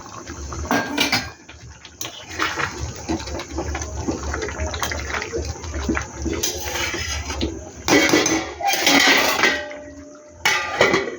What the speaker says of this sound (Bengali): এই পনিরের এই জলটা দিয়ে দিলাম